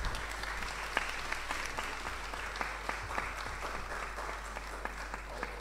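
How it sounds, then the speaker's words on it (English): An audience at a conference hall bursts into sustained applause, a dense, even wash of many hands clapping with a few sharper claps standing out, steady from start to finish. "Can we give them a huge round of applause?"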